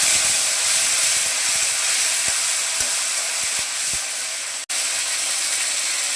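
Sizzling in a hot pan as ginger paste and cumin paste go in over panch phoron for a Bengali rohu fish-head muri ghonto. A steady, close hiss runs throughout, with a few soft low knocks and a brief dip near the end.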